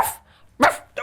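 A cartoon character imitates a dog barking, giving two short sharp voiced barks about half a second apart, close and loud.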